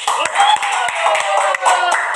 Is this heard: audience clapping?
yes